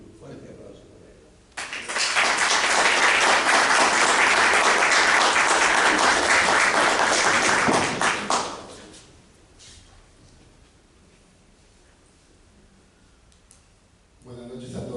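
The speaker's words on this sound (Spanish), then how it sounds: "un fuerte aplauso para él" Hearty audience applause for an author at a book presentation starts suddenly after a quiet moment, holds loud and dense for about six seconds, then fades out, leaving quiet room tone before speech resumes.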